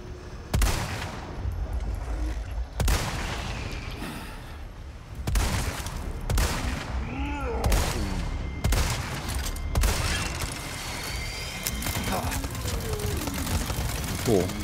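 Gunfire from a weapon in Resident Evil 4 Remake, several sharp shots spaced across the stretch amid game noise and a talking voice, with bursts standing out loud and close.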